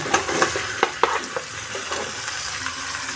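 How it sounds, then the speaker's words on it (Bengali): Mixed winter vegetables (cauliflower, flat beans, tomato) tumble into a pan of frying spice paste, a few sharp scraping clatters of stirring over a loud, steady sizzle that settles into continuous frying. "সবজিগুলো ঢেলে দিয়ে একটু নেড়েচেড়ে সাথে মিক্স করে নেব।"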